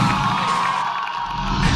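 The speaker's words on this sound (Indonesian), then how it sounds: "tepuk tangan sekali lagi untuk mereka teman-teman semua" Audience at an Indonesian dance competition cheers and claps for the dancers, a continuous loud roar of crowd noise with whoops, heard from within the hall.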